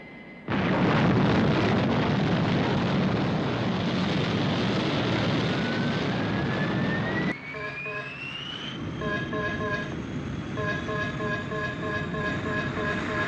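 Thunderbird 1, the rocket craft from a Thunderbirds film, lifting off with a loud sustained roaring blast that drops away abruptly, followed by a rising whine and a steady background drone dotted with regular beeping tones.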